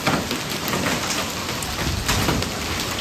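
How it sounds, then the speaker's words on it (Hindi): Steady dense patter of hailstones striking surfaces outdoors, a continuous loud drumming with no voices. "वो देखो ओले पड़ गए।"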